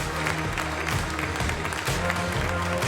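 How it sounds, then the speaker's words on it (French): Applause for a Motoball team at a French motorcycling federation press conference, a steady, fairly close clapping from a room audience, with murmured voices underneath. "Une belle famille du Motoball, on peut les applaudir s'il vous plaît."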